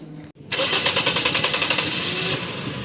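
A Toyota Vios single VVT-i car engine idles with a fast, pulsing rhythm after a brief gap, running steadily up close after its throttle body was cleaned, then settling slightly softer near the end.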